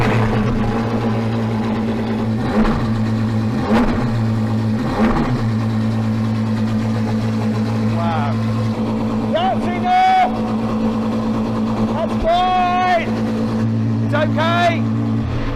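Apollo hypercar cold start: a loud, steady engine drone runs throughout, with a few sharp blips, as people talk over it and briefly imitate the sound with their voices.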